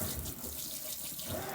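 Hot tap water runs into a kitchen sink in a steady close rush, with a slight change in splash partway through.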